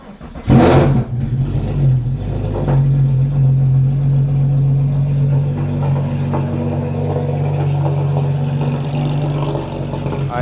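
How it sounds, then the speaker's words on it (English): A Porsche Cayman 987 starts with a loud crank and burst of revs, then falls into a steady, even idle that rumbles on as it warms up, with no voices. "we're just gonna start the car, let it warm up for a bit"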